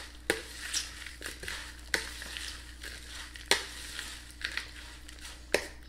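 Grated cheddar being stirred into a squash casserole, giving a steady, close scraping and mixing sound with several sharper knocks of a spoon against the dish.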